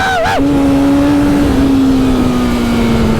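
A BMW S1000RR motorcycle engine drones loud and close, briefly dropping in pitch and then holding a steady, slowly sagging hum as it rides.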